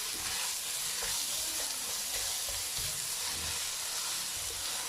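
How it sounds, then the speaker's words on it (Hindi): A large chopped onion fries in a pan toward golden, giving a steady, dense sizzle and hiss with occasional stirring scrapes, close and continuous throughout with no voices. "तो प्याज को हम लोगों ने करना है गोल्डन फ्राई"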